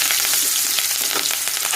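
Curry leaves sizzle and crackle in hot oil with mustard seeds, fenugreek powder and turmeric while tempering raw mango rice, a steady close frying hiss with small pops throughout.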